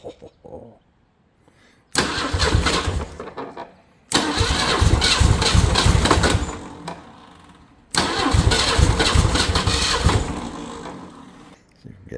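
A previously seized Ford 300 inline-six engine cranks in repeated bursts, three loud grinding starter attempts separated by short pauses, heard up close without catching cleanly.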